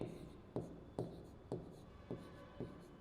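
Writing on a classroom board during a physical chemistry lecture produces six crisp tapping strokes at an even, unhurried pace. They sound close and fairly quiet over a low room hum.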